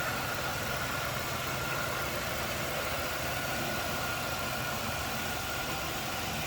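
A V6 engine in a 2003 Chevrolet Monte Carlo SS idles smoothly and steadily, a constant even hum with no revving.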